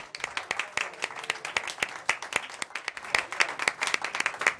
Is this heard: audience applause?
yes